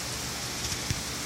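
Irrigation sprinklers in an in-house fodder system spray water like rain, a dense steady hiss of droplets pattering on surfaces nearby, with no talking.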